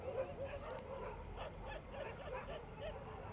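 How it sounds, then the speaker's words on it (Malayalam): Dogs on a roadside stop in the Guruvayur area of Kerala during a road trip, giving faint, scattered yips and whimpering barks at a distance over low background hum, with no clear talking. "ഇവിടെ ഭയങ്കര ഡോഗ്സാണ്."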